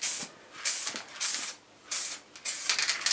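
A spray can lays a light grip or tack coat over a bash plate in a garage before vinyl wrapping, giving several short hissing bursts with brief pauses between them, close and fairly soft.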